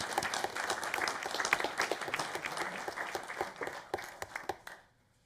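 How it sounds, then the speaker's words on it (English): Applause at a school board meeting honoring a first-place student, a moderate room of people clapping steadily with distinct individual claps, tapering off and ending abruptly into near silence. "So let's give a round of applause for Ricardo for first place"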